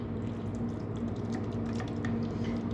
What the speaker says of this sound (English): So I'm gonna smear this, pat this down.